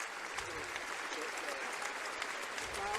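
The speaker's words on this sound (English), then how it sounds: "Crowd rises and gives him a standing ovation" A basketball arena crowd rises in sustained applause, dense clapping that holds steady throughout, with a commentator's voice over it.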